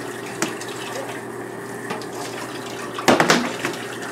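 Very hot water runs steadily from a kitchen tap while soup is being prepared, a continuous close hiss with a brief louder splash and gurgle near the end.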